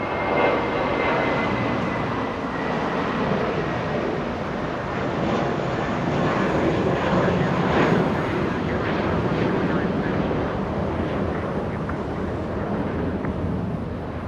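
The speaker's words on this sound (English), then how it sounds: "We have a private 737 coming in." A private Boeing 737 jet landing on runway 24 right at Los Angeles International Airport, a loud continuous engine roar with wind buffeting the microphone, steady across the whole stretch.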